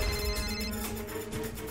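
A telephone rings with a continuous electronic tone through a dense, noisy background, brief and steady without any talking.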